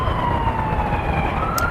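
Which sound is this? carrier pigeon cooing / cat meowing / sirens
sirens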